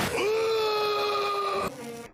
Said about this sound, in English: That's like the third, fourth scream from this already.